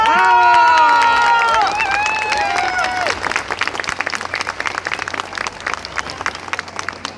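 Crowd applause and cheering at a San Juan fair follow a mariachi presentation in Purépero. Whistles and shouts open the clip, then the clapping carries on loud and close.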